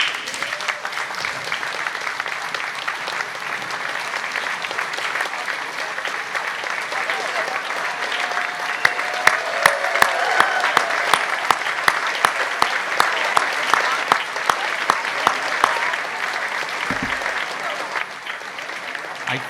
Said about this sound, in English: to accept the recognition and applause for their service to our country